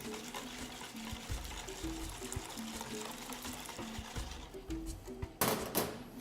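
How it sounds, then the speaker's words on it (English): Hot scalded cream poured slowly over a whisk into egg yolks for chocolate crème brûlée, a soft steady liquid stream with faint trickling over a low background hum, no talking. "Going to take the hot cream and slowly pour it in."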